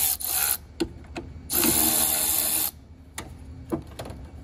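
A 10 mm wrench loosens the nut on a car battery's negative terminal, giving short scraping and ratcheting strokes, with one longer close grinding turn in the middle and a few brief clicks between.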